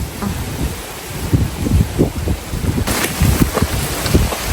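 Rain and gusting wind out on the water during fishing from a boat in a heavy downpour, a steady broadband wash with irregular louder gusts and bumps close to the microphone.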